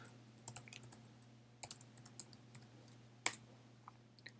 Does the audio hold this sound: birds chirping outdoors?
no